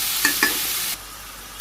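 A vegetable curry sautéing in a pan gives a strong continuous sizzle, with two quick stirring scrapes near the start and another at the end.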